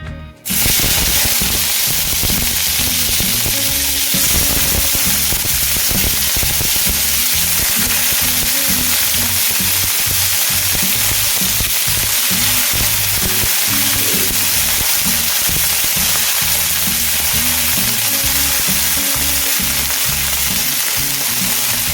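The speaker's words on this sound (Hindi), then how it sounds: "अब मैं इसमें मेथी ऐड कर रही हूँ।" Fenugreek leaves (methi) fry in hot oil with mustard seeds while making restaurant-style methi malai paneer, giving a loud, steady sizzle with crackling pops and stirring scrapes throughout.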